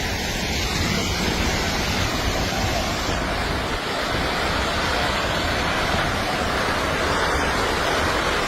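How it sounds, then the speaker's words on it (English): A landslide in Meghalaya, India, gives off a constant roaring rush like a raging river, a loud broadband torrent that never lets up, with wind buffeting the microphone. "The sound of this landslide is so intense that it reminds me of a raging river."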